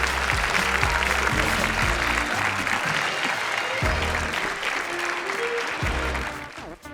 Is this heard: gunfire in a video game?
no